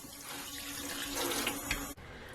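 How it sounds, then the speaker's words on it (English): Water pouring into the bottom of a seedling tray for young pepper transplants, a steady close splashing stream that cuts off abruptly near the end. "We want a little water in the bottom of the tray."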